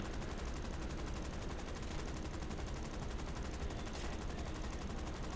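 Rifle-caliber 7.7mm machine gun turrets fire in War Thunder, a relentless dense rattle of rapid shots held at an even, loud level throughout with no pauses.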